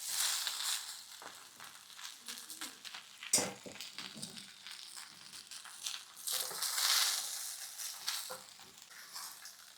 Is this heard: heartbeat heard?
no